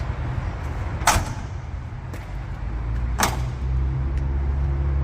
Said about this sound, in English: Listen to when the door shuts.